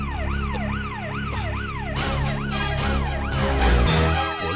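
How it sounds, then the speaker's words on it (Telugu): A police jeep siren wails in steady rising and falling sweeps, loud and close throughout, growing fuller and more layered partway through, in a Telugu film scene. "పోలీస్ జీప్ ఎందుకు వచ్చింది?"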